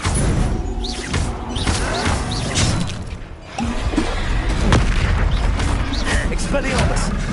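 Repeated Confringo spell explosions from the game Hogwarts Legacy, loud booming blasts and crashes going off in quick succession amid dense combat noise, with a brief lull partway through.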